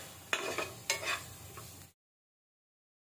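Corn sautéed in butter in a pan makes a faint sizzle with a few soft stirring scrapes, then cuts off abruptly into silence.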